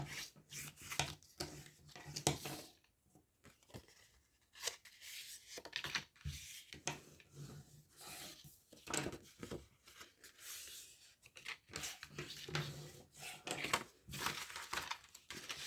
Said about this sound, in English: we're just going to fold and burnish all the flaps, and then we can stick it in